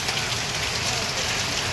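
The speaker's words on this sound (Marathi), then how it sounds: "मंडळी, पावसाचा जोर तर वाढतच चालला." Heavy monsoon rain pours down steadily in Mumbai, a dense, constant hiss with no letup and no clear voices over it.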